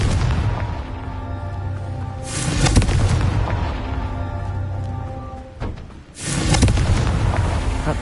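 Booming blasts from a Confringo spell in the video game Hogwarts Legacy: a long rumbling explosion runs throughout, with two heavier bursts around three and six seconds. Loud and close, with no voices.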